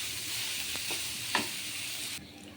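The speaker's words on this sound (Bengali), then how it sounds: "মরিচ কুচি আর ধনেপাতা কুচিটাকে ভালোভাবে হালকা আঁচে 1 মিনিট ভেজে নেব" Chopped green chili and coriander leaves sizzle softly in a pan over low heat with a steady hiss. A couple of light stirring scrapes sound before the frying cuts off.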